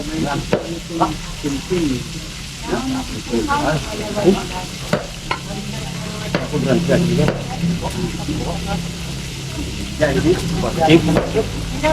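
Food frying in a pan with steady sizzling, stirring clatter and scraping throughout, close and fairly loud, with voices talking faintly in the background.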